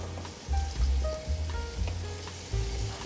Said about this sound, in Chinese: 现在不停的翻炒，让莲藕吸收到这些调味料的酱汁